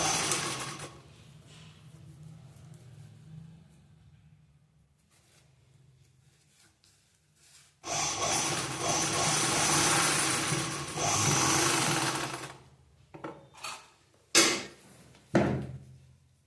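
A sewing machine stitches a blouse in bursts, with a soft run early on, then a loud close whirring stretch of several seconds, and short stop-start runs with clicks near the end.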